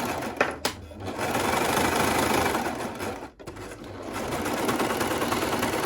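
An overlocker stitches two layers of fabric together with a loud, steady mechanical whir close by, pausing briefly before running on continuously, with no talking.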